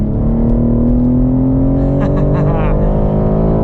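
A 2021 BMW M3 Competition is driven hard on a race track, its engine note climbing steadily in pitch as it accelerates in a loud, continuous, close-up roar from inside the cabin.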